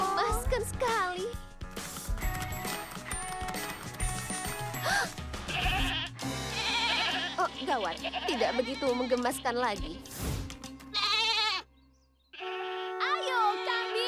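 Cartoon goats in an animated Barbie show bleat several times, loud and close, between bursts of music and a character speaking.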